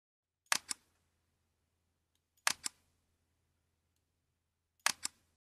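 A button click sound effect plays three times in an Adobe Animate movie, each a sharp double click spaced about two seconds apart, crisp and close with silence between.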